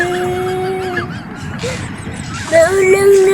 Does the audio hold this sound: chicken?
yes